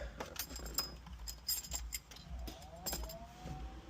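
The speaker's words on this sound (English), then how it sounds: "You hear pumps come on in the back." Electric car cooling pumps and fans at the rear start with a soft steady hum and whirr, accompanied by faint light clicks and ticks, quiet and close inside the cabin.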